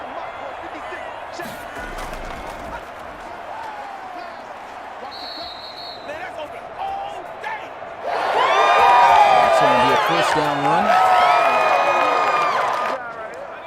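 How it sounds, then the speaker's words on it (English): Stadium crowd in the Madden 21 football video game swells into loud cheering and roaring, with an announcer-style voice talking over it and a brief lull before the crowd surges again. "they put the crowd volume up so loud"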